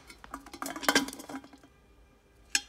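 A stainless steel 5.5-litre induction pressure cooker lid is handled and turned, giving a cluster of close metallic clinks and scrapes, then a pause and one final sharp clank.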